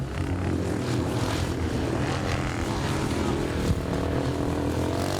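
250cc classic motorcycles race through their last lap with a dense, continuous engine roar that swells a little as they pass, heard from trackside.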